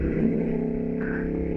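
A Ducati V4 Streetfighter motorcycle engine drones loud and close under acceleration, a dense, steady harmonic roar that holds for the whole moment with a slight lift in pitch toward the end, and no voices over it.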